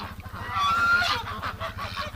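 Nasal honking calls from ducks in winter cold, a few close squawks over a low rumbling hum, with no talking.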